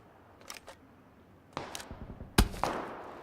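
Suppressed gunfire in a video game: a few soft, muffled shots spread across the moment, with one sharper crack near the end, fairly close and unaccompanied by talk.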